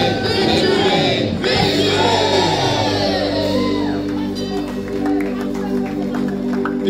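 Congregation at a church service shouting together in unison, loud overlapping voices from a crowd filling the room, sustained over several seconds with music or singing tones underneath.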